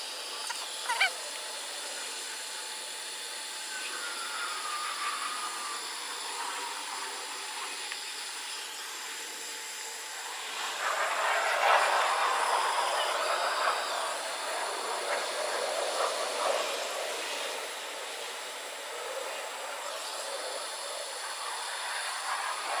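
Hot air hisses steadily while heat-shrink tubing is shrunk over a waterproof power connection, swelling louder for several seconds midway before easing back into a continuous rush.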